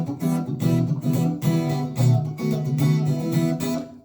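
An acoustic guitar strums the rhythm of a song, with steady repeated chord strokes ringing loud and close throughout.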